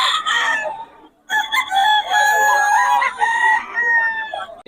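Gamecocks belonging to Boss Batang at a market crow loudly and close, several overlapping drawn-out calls following one another.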